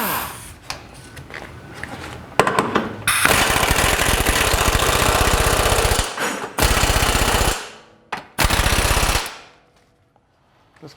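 A pneumatic impact gun drives control arm bolts on a 2015 Subaru Forester, firing in long loud rattling bursts with short pauses between them, close by and alone before fading out.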